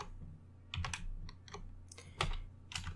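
Close, quiet clicking of computer keyboard keys as Python code is typed, coming in short irregular bursts with brief pauses between them.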